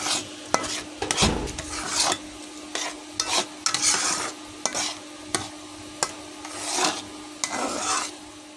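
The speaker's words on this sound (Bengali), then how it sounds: "সবটুকু গাজর দেওয়া হয়ে গেছে এখন আমি ভালো করে নেড়ে দেবো" Grated carrots for carrot halwa are stirred in a pan, giving repeated scraping, rasping strokes of a utensil with a soft sizzle underneath, close up and fairly loud, with no talking.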